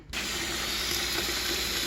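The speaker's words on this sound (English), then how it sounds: "I'm going to see if I can get these dishes washed" Tap water runs steadily into a kitchen sink while dishes are washed, a continuous close hiss and splash that starts abruptly and holds level throughout, with no talking.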